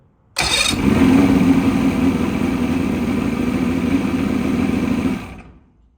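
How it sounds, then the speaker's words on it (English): An old outboard boat engine on a pontoon boat fires up suddenly and runs steadily and loudly up close for about five seconds, then cuts off. "That's actually one of the better running engines I got."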